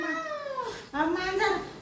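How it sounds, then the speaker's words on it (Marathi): A pet cat gives two drawn-out, rising and falling meows close by, the second louder and longer than the first, standing alone without talk. "मांजरच आहे. मांजर हा? ते मांजर पाळलं ना मी."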